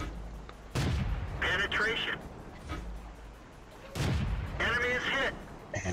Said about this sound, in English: I already see a Stug, so I'm going to take some shots at him